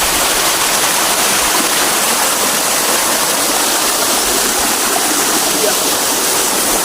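A high tropical waterfall and its flowing stream roar in a steady, dense broadband rush, loud and constant throughout, with no distinct voices breaking through.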